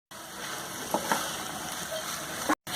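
Fried shrimp and garam masala being stirred into a banana flower curry in a pan, a steady close sizzle with a couple of soft scraping stirs.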